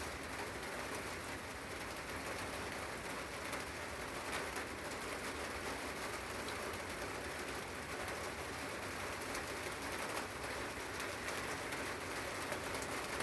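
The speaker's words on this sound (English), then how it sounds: "enjoying the rain." Steady rain falling outdoors with birds present, a continuous even patter and hiss that stays constant and moderately loud throughout, with occasional faint bird sounds beneath.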